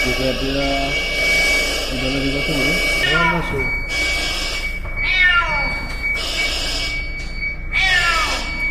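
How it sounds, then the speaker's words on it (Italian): A cat rescued from a well by firefighters meows repeatedly in short, rising-and-falling cries, fairly close, with people talking and a steady background hum throughout. "Occhio che c'è il gatto adesso"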